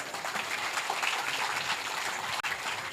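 Sustained applause from an audience at a Hindu devotional katha gathering, steady dense clapping that fills the whole stretch at moderate loudness.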